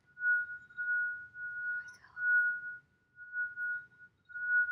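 A water glass sings as its wet rim is rubbed, giving a pure, steady ringing tone that swells and fades in repeated strokes, faint and close with no voices.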